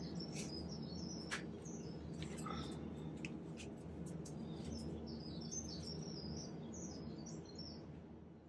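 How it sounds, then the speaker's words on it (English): Recorded bird songs playing quietly in the background: scattered high chirps and tweets over a soft, steady indoor hum, faint and distant-sounding, no one talking. "I'm playing bird songs in the background."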